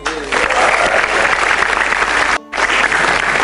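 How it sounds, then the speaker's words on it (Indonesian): Audience applause at a stand-up comedy show, dense loud clapping from a crowd that cuts out for a split second then resumes. "Tepuk tangan buat komik-komik kita."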